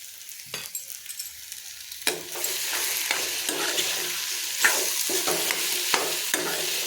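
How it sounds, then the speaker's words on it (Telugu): Salted bitter gourd pieces fry in a pan until dry. Quiet, sparse scraping stirs at first give way to a louder, continuous sizzle punctuated by repeated spatula strokes. "కొంచెం అంతా డ్రై అయ్యేదాకా వేయించుకుందామండి"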